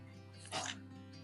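A small dog gives a short whimpering yip, a single brief high cry close by over a steady low kitchen hum, with no talking.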